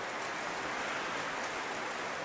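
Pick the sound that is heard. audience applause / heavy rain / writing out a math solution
heavy rain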